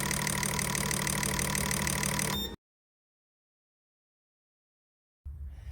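A fuel injector cleaning machine in a marine shop runs injectors at idle with a rapid, buzzing mechanical clatter. It cuts to silence after two seconds, then briefly resumes at the end.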